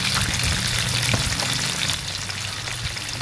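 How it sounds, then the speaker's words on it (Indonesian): Fish frying in hot oil that was dusted with flour, a steady dense sizzle and crackle continuing throughout at close range with no voices. "Nah, kita goreng ikannya ya sampai benar-benar matang."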